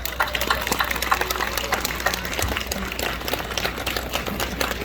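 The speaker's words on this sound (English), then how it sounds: "Please, everybody, one more time, a big round of applause" An audience at an outdoor Buddhist festival applauds in a steady, continuous round of clapping heard from some distance, with a low hum beneath it.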